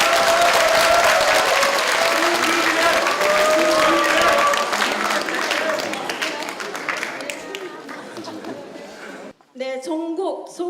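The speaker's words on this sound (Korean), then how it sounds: "큰 박수로 환영해 주시기 바라겠습니다." Loud crowd applause welcoming a party leader at a Democratic Party small-business members' rally, dense clapping with voices over it that fades out, followed by a brief pause and a voice speaking.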